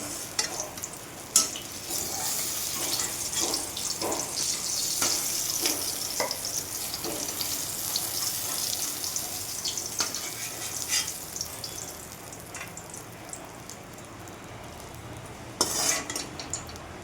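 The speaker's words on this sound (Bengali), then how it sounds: "পটল ভাজাগুলি তুলে তারপর আলু ভাজবো।" Pointed gourd and potatoes fry in hot oil in a pan for a Bengali potol dalna, giving a steady close sizzle broken by repeated spatula scrapes and sharp metal clinks, with no talking.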